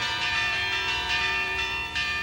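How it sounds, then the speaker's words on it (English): Bells ring with a steady, bright metallic shimmer, sustained and fairly soft, strikes blending into one another with no voices over them. "Why are there bells ringing"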